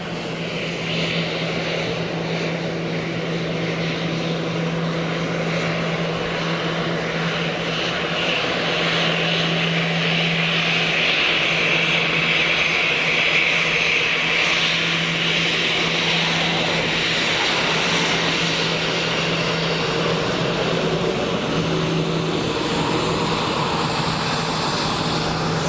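An Antonov An-12 turboprop lands at Dublin Airport, its engine drone and propeller hum steady and loud throughout, with a strong low tonal hum and a broad roar that swells slightly midway.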